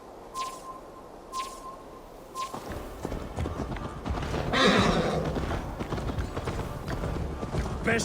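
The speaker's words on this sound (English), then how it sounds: "Best not fall off your horse." Horse hooves clip-clop in Assassin's Creed Valhalla, first as a few spaced steps, then speeding into a steady, close gallop with a horse whinnying over it.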